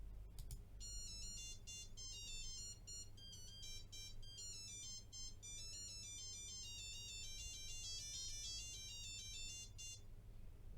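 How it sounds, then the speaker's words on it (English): A Pimoroni Inventor 2040 W board plays a pirate shanty as a thin, beepy electronic tune of rapid high notes, continuous for about ten seconds over a steady low hum. "There we go, a little pirate shanty there."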